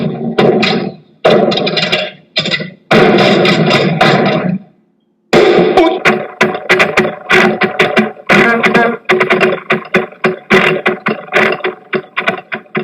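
A car engine pulls away as the clutch is let out, surging in loud, choppy bursts with a brief gap, then settling into a rapid stuttering series of pulses, close and with no talk.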